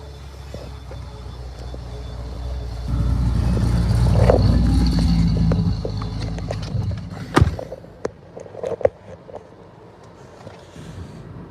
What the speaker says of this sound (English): some old school cars here.